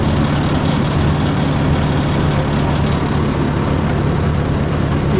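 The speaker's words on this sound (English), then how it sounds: "As you can see, the tractor has no problem traveling in the snow." Ford 601 series tractor with a 6-volt system chugging along through snow on a freezing day, a steady, dense low engine drone close by and continuous throughout, no talking.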